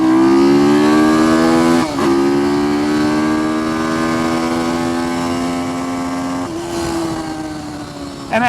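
Ohvale GP-0 190 minimoto launching hard, engine screaming close and loud with rising pitch through the revs, a brief gear change near two seconds and another around six and a half, steady high-pitched climb between.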